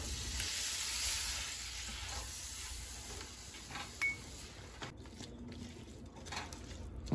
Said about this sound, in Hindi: अब हम इसको तेज चूल्हे पे अच्छी तरह मिक्स करेंगे।